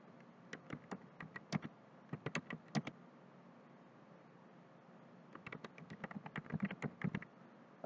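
Typing on a computer keyboard while entering multiple-choice exam questions and options in Excel: quiet bursts of sharp key clicks in two clusters separated by a pause, no talk.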